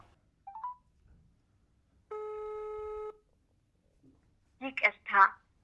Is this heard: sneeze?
no